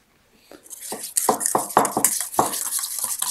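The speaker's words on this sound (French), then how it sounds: "Une fois que c'est fait, on va venir commencer à fouetter." Vinaigrette sauce with mayonnaise whisked in a bowl, a run of quick, sharp clinking strokes that speed up into a steady, fairly loud rhythm, close by and alone.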